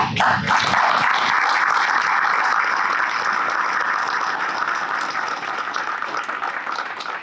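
A crowd applauds steadily at a county board meeting, dense clapping starting strong and slowly tapering over several seconds.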